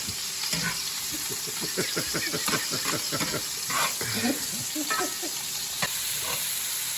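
Ribeye steak frying in a pan for steak pizzaiola, a steady close sizzle with repeated rhythmic stirring or scraping strokes, no voices over it.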